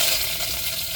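Curry leaves hit hot oil with popping mustard seeds in a heated clay pot, producing a loud, continuous crackling sizzle that fills the whole moment with no voices.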